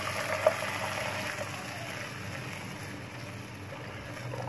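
Sugar syrup poured into a pan of boiled rice for a sweet dry fruit rice dish, a steady low liquid pour with a soft clink near the start, close and fairly even, no voices.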